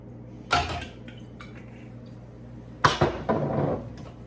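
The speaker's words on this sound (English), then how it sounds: "And then I use my little spoon and I mixed" A small spoon clinks against a bowl while stirring homemade power punch flavoured with vanilla essence, two brief bursts of scraping and tapping separated by quiet.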